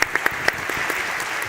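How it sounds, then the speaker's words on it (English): A conference audience at a logistics forum claps, a dense burst of applause with a few sharper individual claps standing out over the short span. "You get a round of applause to preface another round of applause"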